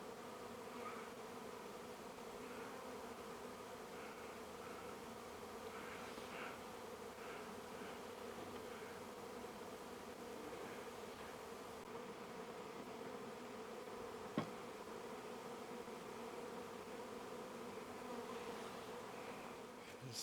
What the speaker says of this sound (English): But look at this bee population.